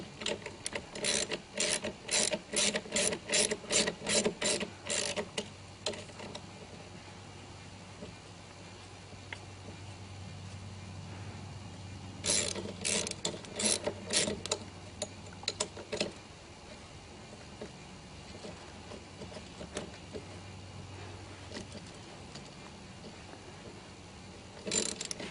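A ratchet wrench backs a bolt out of a pool slide handrail, giving bursts of fast, close clicking strokes separated by pauses, with a faint low hum beneath.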